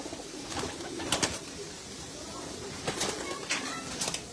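Pigeons coo softly in short throaty bursts inside a breeders' loft, several calls spaced across a quiet background with light rustling.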